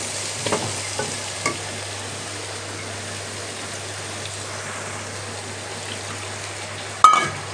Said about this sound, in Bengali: মশলাটা কষাইতে থাকুক